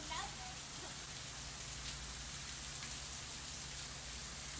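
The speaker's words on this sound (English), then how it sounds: "And back to the resort for the afternoon rainstorm." A heavy afternoon rainstorm pours down at a Walt Disney World resort, a dense and constant hiss of rain falling on surfaces with a faint low rumble beneath it and no talking.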